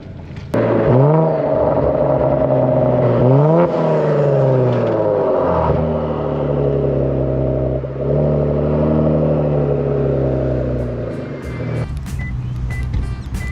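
A Kia Stinger with catless downpipes, its turbocharged engine and loud exhaust droning and revving in rising and falling sweeps, close by and continuous, with a few sharp pops near the end.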